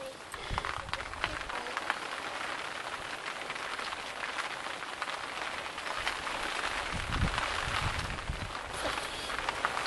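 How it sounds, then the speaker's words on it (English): Steady rain falls on the Grand Western Canal, with a chilly southeasterly wind adding a continuous broadband hiss and occasional low gusty rumbles, no clear talk over it. "still raining, wind's picked up, got a southeasterly at the moment, it's quite chilly"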